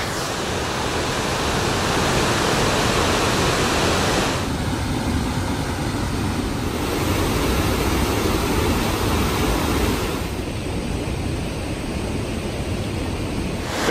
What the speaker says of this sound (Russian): послушать, так сказать, прибой горной речки